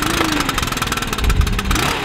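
A gas-powered leaf blower engine, just started with choke and primer bulb, runs loud and close with a rough, pulsing two-second burst of revving.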